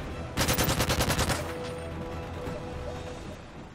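Rapid automatic gunfire from a Pave Low helicopter in Call of Duty: Modern Warfare 3 free-for-all, a loud burst of about ten evenly spaced shots over a second, then trailing battle rumble.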